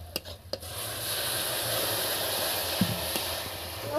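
Ground cumin and other spices sizzle in a hot pan as a little water is poured in, giving a steady close hiss with a few sharp pops and stirring scrapes, no voices.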